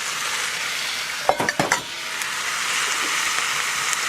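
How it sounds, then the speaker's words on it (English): Chopped, diced tomatoes hit a hot pan with browning ingredients for a homemade whiskey BBQ sauce, giving a steady close sizzle with a short cluster of stirring scrapes and utensil knocks partway through. "So we're going to throw in our chopped up and diced tomatoes."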